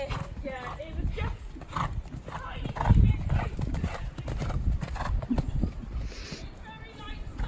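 Horse hooves clip-clop steadily as the animal is ridden forward around a jumping course at an eventing session, with a coach talking loudly over the footfalls and a brief whinny.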